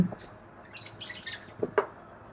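Several lovebirds chirp and tweet nearby in an aviary in short, scattered bursts over a faint steady background hum.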